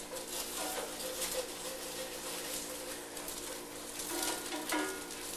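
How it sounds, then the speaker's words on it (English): Bread toasting in a large frying pan during a power outage drill gives a steady, soft sizzle that runs without a break and holds an even level throughout, with no talking. "I've never really toasted bread in a pan, but I guess I'll give it a shot."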